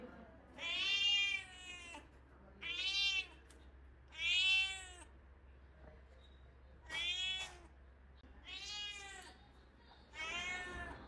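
A house cat meows six separate times, each a drawn-out, rising and falling cry spaced a second or two apart, fairly close against a quiet room.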